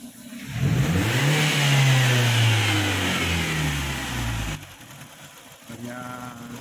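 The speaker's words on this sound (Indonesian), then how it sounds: "Suara mesin jadi super halus." A Wuling Confero car engine running smoothly at a steady idle around 600 RPM after a Convero install, an even close hum with a higher whine, briefly dropping toward the end.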